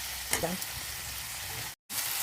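Onions with spices and salt frying in oil in a pan, a close, even sizzle with a couple of stirring scrapes and knocks near the start, briefly dropping out before resuming.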